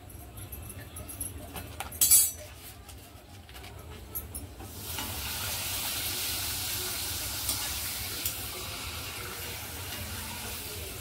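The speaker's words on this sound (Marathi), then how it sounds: "तेल मस्त गरम झाले आणि पटापट असे 2-3 पापड मी भाजून घेते" Papad fries in hot oil: after a few soft clatters, a broad hissing sizzle rises suddenly and holds steady at moderate volume.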